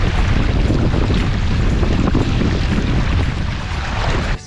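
Strong wind roars and buffets the microphone during a solo canoe trip in the Scottish Highlands near the Great Glen, a loud, steady rushing that fills the whole stretch, with no voices.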